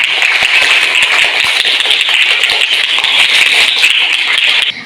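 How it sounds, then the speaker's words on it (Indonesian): A group of elementary school pupils on a museum visit applauds together, loud and dense continuous clapping lasting several seconds before it drops off at the very end. "Tepuk tangan dulu untuk kita semua."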